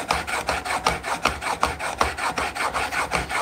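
A chisel is rubbed back and forth on a sharpening stone in a woodshop, giving close, regular rasping strokes, about three per second, loud and steady with no voices.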